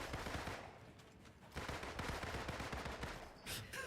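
Rapid automatic gunfire with recoil crackles in a dense, steady stream from a gun in the Marvel's Avengers video game, with one brief pause and a short final burst.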